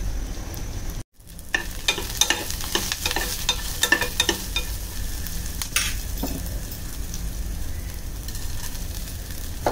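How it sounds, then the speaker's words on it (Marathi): Onion and garlic sautéing in about two spoons of oil over high heat, the base for a Kadaknath chicken curry masala, with steady loud sizzling and repeated spatula scrapes and clinks close by after a brief silence at the start. "कांदा आणि लसूण पहिलं परतून घेणार आहोत."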